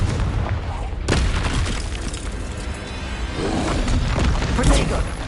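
Spell-combat blasts from the Hogwarts Legacy video game, with a Confringo fire spell going off: a series of booming, thudding explosions with crackling bursts, loud and dense throughout, mixed with spoken spell incantations.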